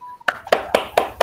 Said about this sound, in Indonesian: Tepuk tangan Bu Tusi.